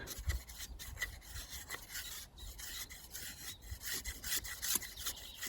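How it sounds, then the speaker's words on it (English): A Focuser Carving FC133 knife with a CPM 3V steel blade shaves feathersticks from wood, a run of close, raspy scraping strokes repeating unevenly one after another, moderately loud and with no speech. "so how does this knife cut? As you can see, it has no problems with cutting"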